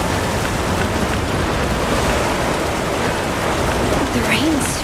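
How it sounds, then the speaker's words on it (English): A heavy downpour in the video game Monster Hunter Wilds hisses loudly and steadily without a break, with a faint voice briefly heard near the end. "The rain's really coming down."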